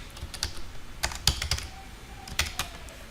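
Computer keyboard keys pressed for a Control F1 shortcut in Word 2010, a few sharp clicks spread unevenly over about three seconds, close and clear with no talking.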